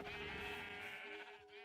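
Sheep in a video game farm with staggered pens let out a single drawn-out, bright bleat, close and clear with no talk over it.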